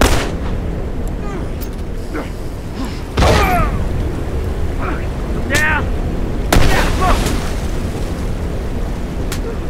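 Repeated heavy booms and gunfire-like blasts in The Last of Us, several sharp impacts spaced across ten seconds amid combat noise, with characters' voices heard in between.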